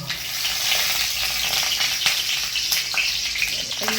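Black cumin and green chilli tempering in hot oil for a Bengali taro-leaf dish, a steady close crackling sizzle with stirring scrapes throughout, no talk.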